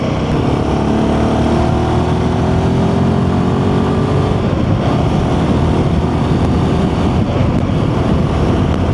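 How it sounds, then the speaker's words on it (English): A Royal Enfield Himalayan 450 motorcycle accelerates through the gears toward 60, its steady engine roar rising under heavy wind rush from riding at speed, loud and continuous throughout. "try an acceleration up to 60"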